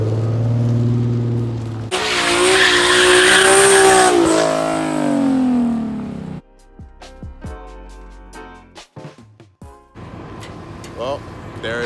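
A loud engine roars and revs with a long squealing tire screech, then the sound drops to scattered mechanical clatter and bursts of noise.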